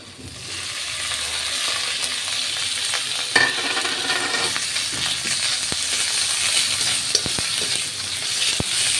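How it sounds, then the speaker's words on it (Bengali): Chopped onions fry with garlic paste and ginger paste in a hot pan, making a steady, close sizzle for several seconds, with occasional sharp clicks and scrapes as a utensil stirs. "পেঁয়াজ কুচি একটু লাল লাল করে রসুন বাটা আদা বাটা দিয়ে দেব"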